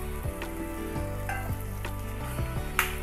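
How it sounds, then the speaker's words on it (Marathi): Mutton frying in spicy kala masala in a pan, a steady close sizzle with crackling and occasional scraping stirs of the spoon, no talking over it. "जे आपण मटण घेतलं होतं ते मटण टाकून देऊ. आता चांगलं परतून घेऊ याला"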